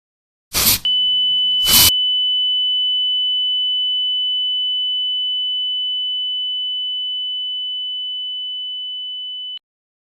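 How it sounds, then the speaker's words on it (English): An ESP32 air quality monitor's buzzer sounds a continuous high-pitched electronic tone steadily for about nine seconds after two short bursts of hissing deodorant spray, then cuts off abruptly. "as soon as the air quality spikes high, the buzzer and LED starts alerting"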